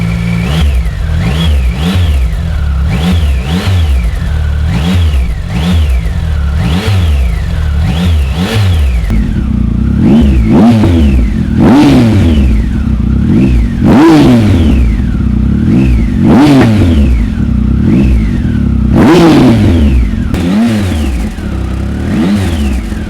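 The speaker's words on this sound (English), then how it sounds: "So you can really hear the difference between the exhaust sounds." A Triumph Speed Triple 1050 S motorcycle fitted with an SP Engineering exhaust revs repeatedly, rising and falling in loud, close blips, growing deeper and more forceful in the second half.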